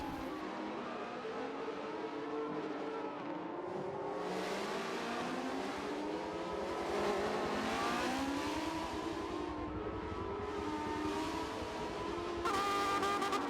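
Race cars lapping the Crystal Palace circuit during a motorsport heritage festival race, engines rising and falling in overlapping revving whines as several cars pass at moderate distance, continuous throughout.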